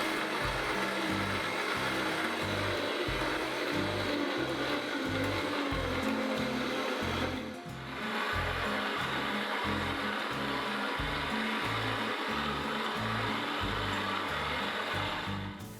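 A blender whirs loudly and steadily, pulsing in a chopping rhythm as it blends a bunch of fresh mint into juice, with a brief dip midway before the motor roars on again, no voices.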